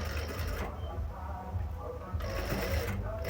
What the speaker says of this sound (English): so let's sew